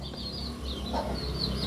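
Chickens and chicks make soft, high chirps and clucks close by while eating leftover biryani, with a low background rumble underneath over a short moment.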